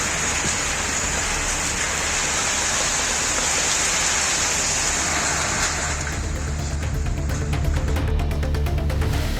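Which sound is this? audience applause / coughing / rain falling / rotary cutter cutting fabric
rain falling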